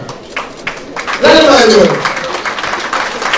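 A guest at a festive jubilee evening in Brussels gets audience applause: a loose patter of clapping that swells into a louder burst with voices cheering over it, then settles back to scattered claps.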